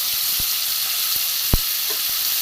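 A steady, bright sizzle of boiled mashed barbati bean mixture frying in a pan, broken by a few sharp taps of a spatula against the pan.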